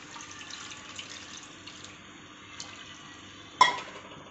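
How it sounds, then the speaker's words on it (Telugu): Water is poured into a simmering Tamil Nadu style fish curry (chepala pulusu): a soft, steady liquid wash with one sharper splash near the end, fairly quiet, with no voices. "కొంచెం వాటర్ పడుతుందండి"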